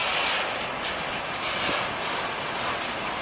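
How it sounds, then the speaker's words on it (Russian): A freight wagon rolling on Russian railway track with a clamped wheel disc, a steady close rumble of wheels on rails with faint rhythmic knocking under the moderate noise, no voices. "И вот он сейчас едет и тук-тук, тук-тук, тук-тук"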